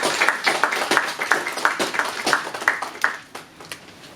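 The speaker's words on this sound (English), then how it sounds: "Let's give them all a round of applause." Applause for a central bank team at the launch of polymer banknotes, a modest round of rhythmic clapping from a small audience, moderately near, tapering off toward the end.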